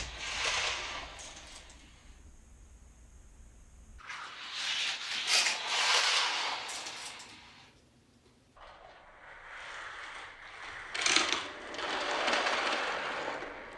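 Small Hot Wheels Grand Prix die-cast race cars, including a Brabham Repco and an Indy Eagle, rattle and whir down a four-lane toy track in several continuous rolling bursts with brief pauses, close and fairly loud, with no talking.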